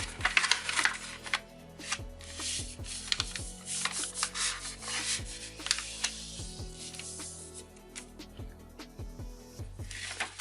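Soft crinkling and rustling of origami paper being unfolded, with scattered light taps and creases, close and quiet, no voices.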